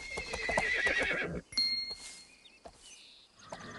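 A horse in the stable of the Barbie Dreamhouse video game gives a loud, bright neigh with a whinnying trill. Short game chimes and clinks follow in a quieter stretch.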